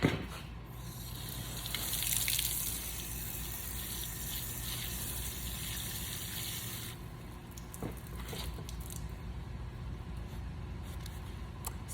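Water pours onto soil around a freshly planted plug, a gushing splash that swells early and then settles into a steady, fairly quiet trickle.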